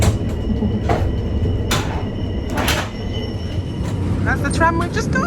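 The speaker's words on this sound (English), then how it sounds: "That's the tram we've just got off." Rotterdam city tram and its rail surroundings, with broadband rumble, brief metallic squeals and swishing passes, people talking throughout over the steady noise.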